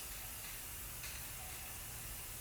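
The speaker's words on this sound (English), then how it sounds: "this is like a rose gold spray paint" Rose gold spray paint sprays from a can in a steady, unbroken hiss for a couple of seconds, quiet and close, with nothing else over it.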